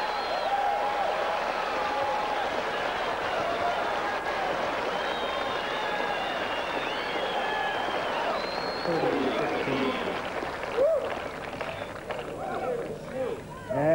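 A tennis crowd at a 1987 Orlando semifinal claps and murmurs in a steady wash of applause, with a commentator talking over it.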